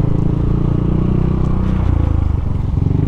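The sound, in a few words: noisy motorcycle riding, Yamaha NMAX scooter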